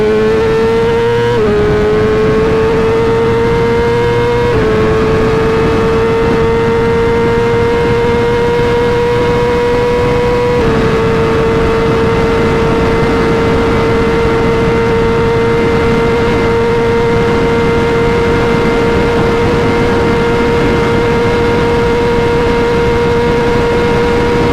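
A 2025 BMW S1000RR sportbike on a top speed pass, its engine a loud, sustained high-pitched wail that holds nearly steady with a few brief dips at gear changes, accompanied by heavy wind rush throughout.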